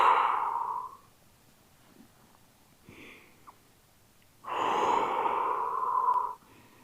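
Deep, audible breaths drawn during a pike stretch in a beginner back exercise routine: a long exhale, a quiet pause with faint sniffs, then another sustained breath, close and clear with no talking.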